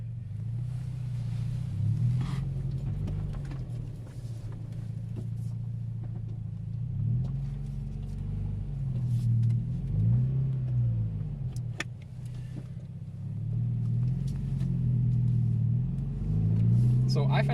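Subaru BRZ / Toyota GT86 type sports car with an upgraded clutch spring being driven, a low steady engine and road rumble rising and easing with gear changes, heard from inside the cabin.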